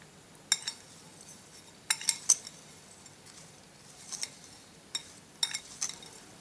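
Sliced hog plums being stirred with a cup of sugar for a sweet-sour pickle, with sparse light clinks and scrapes of a spoon against a bowl, several sharp taps in loose clusters and no talking.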